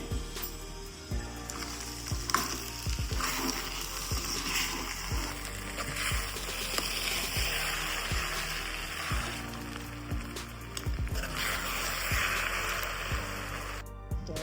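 Sabudana khichdi with lemon juice stirred in a pan, with soft repeated scraping and sizzling taps of the spoon in an uneven rhythm, fairly faint and close.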